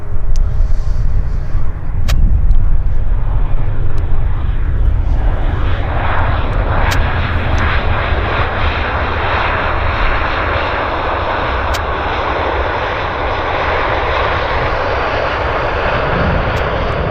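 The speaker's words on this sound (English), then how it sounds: "This is our San Francisco CRJ." A CRJ regional jet at an airport gives off a loud, close engine roar with a deep rumble that stays steady and powerful throughout, with a few faint sharp clicks and no talking.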